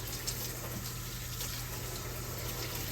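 A small kitchen utensil is rinsed under a running tap while sausage balls are being made, giving a steady, even rush of water with no talking.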